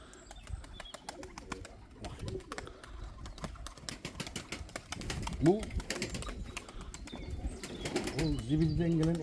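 Pigeons coo and wings flap in bursts while people talk steadily nearby.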